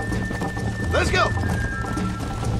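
A horse gallops with rapid hoofbeats in the Western video game Red Dead Redemption, a short whinny rising in the middle, all heard under a player's loud cheering.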